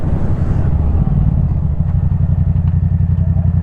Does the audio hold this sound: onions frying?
no